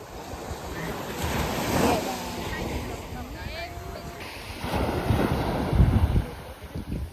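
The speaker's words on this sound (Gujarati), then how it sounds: "દરિયાના મોજા એટલા ફાસ્ટ આવે ને પેલા લોકો બહુ મસ્તી કરે દરિયા કિનારે." Sea waves washing onto the Dwarka shore, a broad rushing wash that swells and recedes in two surges, heard under wind buffeting and nearby people talking.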